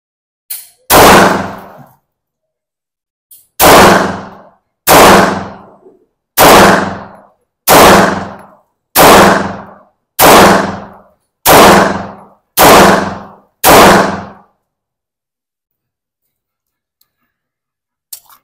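Ten loud, sharp pistol shots from a Sarsilmaz SAR9 SP, fired at a slow, steady pace of roughly one per second after a lone opening shot, each followed by a short ringing decay.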